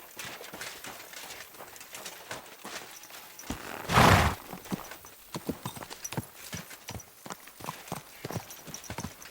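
Horse hooves in the video game Kingdom Come: Deliverance II: steady clip-clop of hoofbeats at a walking pace, close and fairly quiet, with one brief louder rustling burst partway through and faint birdsong behind.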